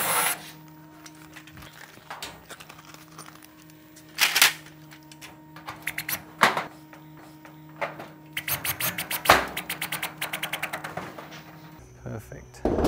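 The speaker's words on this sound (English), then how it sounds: "Pre-drill the hole." A drill bores a pilot hole through metal barge capping flashing on a Klip-Lok metal roof, with short whirring bursts and a faster rattling run near the end, over quiet outdoor background.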